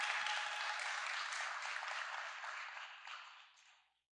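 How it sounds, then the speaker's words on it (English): Audience applause from a community discussion on an energy plan fills the room as a dense, even wash of clapping that holds steady, then thins and fades out near the end, with no one speaking over it. "So another round of applause."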